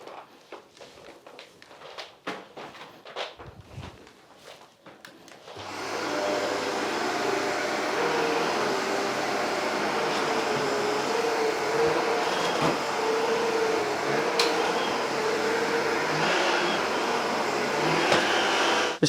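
A Shark AZ950UK Powered Lift Away vacuum cleaner runs on a low pile rug at medium setting, starting after a few seconds of handling clicks and then holding a loud, steady roar.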